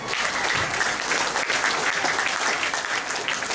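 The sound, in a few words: applause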